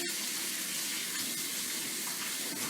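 Kitchen tap water runs over potatoes being rinsed, a steady hissing stream of moderate, fairly close level, alone without speech.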